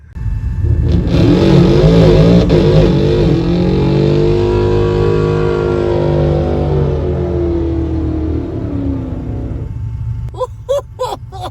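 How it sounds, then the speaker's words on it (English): A car doing street burnouts at a drag-and-drive event holds a loud, sustained high rev for about ten seconds, the engine note wavering and sliding down, then cuts off into shouting and cheers from the crowd nearby. "Good morning, guys, to some street burnouts"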